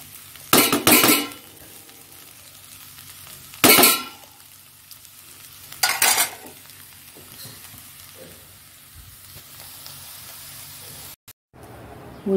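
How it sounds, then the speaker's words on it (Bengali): Nigella seeds and green chillies frying in hot oil in a pan, with three loud bursts of sizzling and spitting about three seconds apart, settling to a low steady hiss in between. "এখানে একটু তেল দিয়ে দিয়েছি আর কালো জিরে ফোড়ন দিয়ে দিয়েছি, কাঁচা লঙ্কা দিয়ে দিয়েছি আর তেলটাও হয়ে গেছে।"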